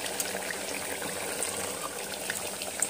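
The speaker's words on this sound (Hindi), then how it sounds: "जो जार में मसाला लगा हुआ है उसे भी हम अच्छे से जो है पानी से वॉश करके" Water sloshing and pouring from a masala jar into a cooking pot while making arvi chicken salan, a steady close splashing gush with no one talking.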